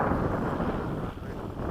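Steady wind buffeting a microphone outdoors at an airfield where a model jet is being flown, a continuous low rumbling roar with no break.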